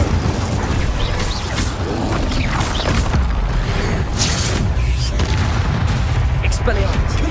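Incendio fire spell casting in the Hogwarts Legacy video game, a dense, loud rush of whooshing and crackling blasts continuing throughout, with a voice calling out over the effects.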